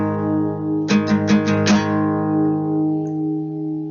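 Muted guitar chord strums from a riff, four quick choked chops over a lingering ringing note, close and alone.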